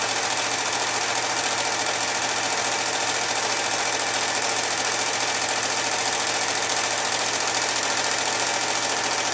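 Sewing machine running fast and steady while free-motion stitching a doodled design, a loud continuous whirring drone close up with no talk.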